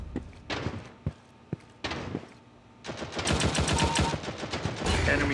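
Gunfire in the Critical Strike shooting game: a few isolated sharp shots early, then a dense rapid burst of automatic fire through the second half, loud and close.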